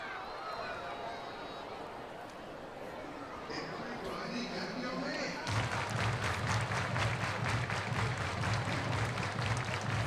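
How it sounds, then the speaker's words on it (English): A large, active crowd at a Northwest Arkansas vs Tulsa baseball game sets up a steady wash of chatter that swells into rhythmic clapping and cheering, with a commentator talking over it. "active crowd here tonight"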